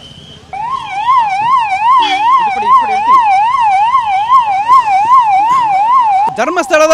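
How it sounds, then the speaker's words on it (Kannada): A police car siren wails loudly and close during a tense patrol in Dharmasthala, a rapid rising and falling electronic tone repeating steadily before shifting pattern at the end, with faint voices in the background. "ಇಲ್ಲಿ ನೋಡಬಹುದಾಗಿದೆ ಪೊಲೀಸರು ಸೈರನ್ ಹಾಕೊಂಡು ಹೋಗ್ತಾ ಇರುವಂತದ್ದು"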